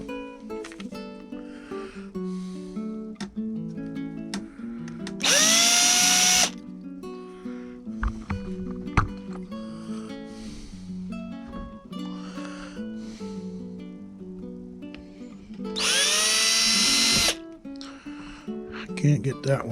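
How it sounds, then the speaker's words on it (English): A power drill bores into a part on an HMS Bounty model ship, two short, loud, high-pitched whirring bursts standing out against quieter workshop handling and someone talking in between. "I can get in there with the drill."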